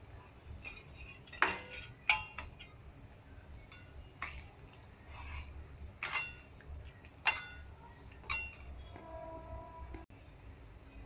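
A metal spoon stirs cardamom powder into thick sugar syrup in a pan, giving repeated sharp clinks and scrapes against the pan at an uneven rhythm, close and fairly clear.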